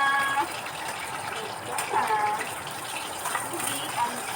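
Water poured into a pan of tilapia simmering in coconut milk, a continuous gushing splash with some bubbling, fairly close.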